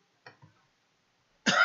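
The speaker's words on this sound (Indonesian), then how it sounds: "Batuk, kebanyakan makan es krim di stand." A single sharp cough bursts in at the very end, loud and close, after a brief soft murmur of speech near the start and a stretch of silence.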